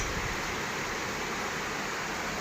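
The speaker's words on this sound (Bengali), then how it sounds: "আর অবিরাম অনেক বৃষ্টি, অনেক বৃষ্টি" Dense, unbroken roar of heavy rain, a constant wash of noise with no distinct drops or voices.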